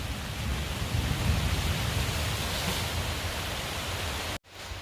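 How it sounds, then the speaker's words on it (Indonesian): Heavy rain pours over a hillside oil palm plantation as a dense, even hiss that holds steady for several seconds before cutting out abruptly. "Ini tampaknya hujan semakin deras ya"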